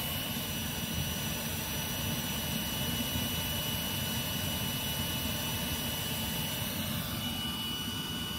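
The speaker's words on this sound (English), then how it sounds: "A little raft or air mattress inflator, 12-volt battery." A 12-volt air mattress inflator blows air through half-inch conduit into a charcoal retort, making a constant loud roaring whoosh that holds steady throughout with no voices.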